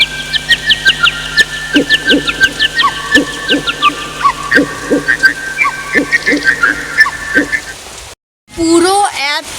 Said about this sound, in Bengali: এত বৃষ্টি হচ্ছে দেখো এই বাইরে পুরো ডুবে গেছে